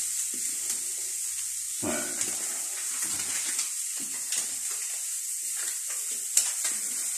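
Meat frying in oil seasoned with spices such as cumin seeds, a steady close sizzle with irregular crackles, spatters and stirring scrapes throughout.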